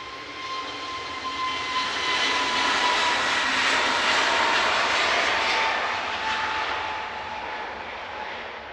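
An Airbus A321neo jet airliner at Manchester Airport roars steadily with a broad engine rush and a thin whine, swelling to a peak midway and easing slightly toward the end, loud and with no voices.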